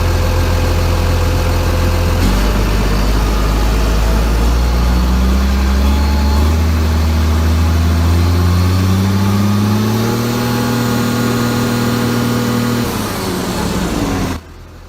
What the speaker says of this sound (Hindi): आइए इंजन साउंड सुनते हैं।